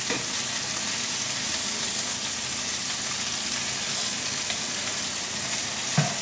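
Minced garlic and chicken thighs sautéing in a pan for a Provençal dish, a loud, steady sizzle and crackle that continues close up without a break and with no talking.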